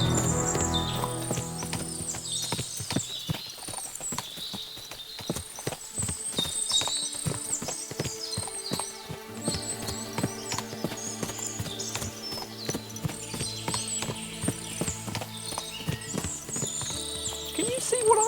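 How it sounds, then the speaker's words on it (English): Horses' hooves clip-clopping in the video game Kingdom Come Deliverance II, a steady, fairly close rhythmic clatter with occasional whinnies, under game music and voices. "What a lot of horses!"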